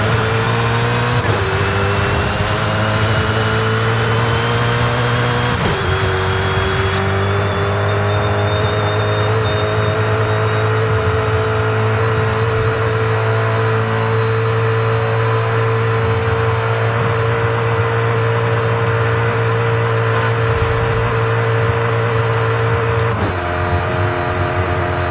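A Koenigsegg Jesko in Forza Horizon 5 roars at sustained high revs during a top-speed run near 500 km/h, its loud engine drone broken by a few brief gear-shift dips.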